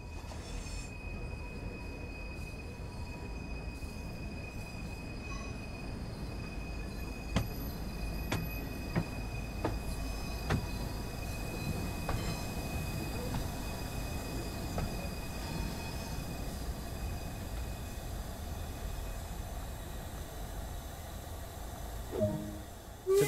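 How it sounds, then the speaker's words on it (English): A steam freight train from the 1930s-built locomotive class in Train Sim World 2 rolls in toward a platform, a steady low rumble with metallic wheel squeals and sharp clanks, growing closer near the end. "Stand on the platform and wait for your train to arrive."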